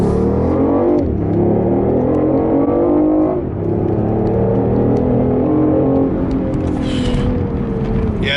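A BMW i8 hybrid supercar accelerates hard, heard from inside the cabin. The engine note climbs steadily and loudly, with two brief dips at gear changes before it pulls on.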